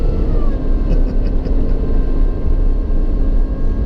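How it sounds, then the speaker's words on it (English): An 800 hp supercharged Chevrolet Camaro ZL1 with its exhaust closed drives hard, a loud, continuous low engine roar with a thin, steady blower whine riding on top, no voices. "you can really hear the blower just screaming"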